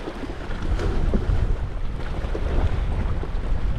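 Strong wind roars steadily across a rocky Anglesey shore where someone is fishing, a loud continuous buffeting rush with gusts hitting the microphone, no talking.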